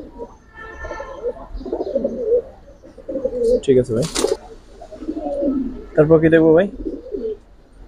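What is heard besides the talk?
Giribaj pigeons cooing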